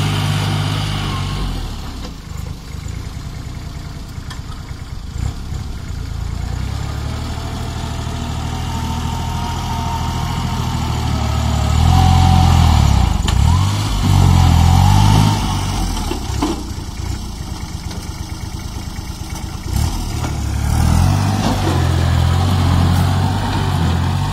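A Hino F18 dump truck's diesel engine rumbles steadily and loudly nearby, idling and revving with a swell in the middle, alone without speech.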